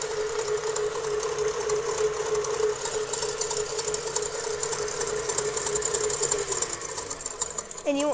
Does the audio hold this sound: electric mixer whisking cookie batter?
yes